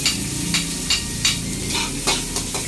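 Ginger sautéing in a hot pan for a home-cooked sweet and sour dish, a steady sizzle and hiss broken by regular scraping stirs of a utensil, close and fairly loud.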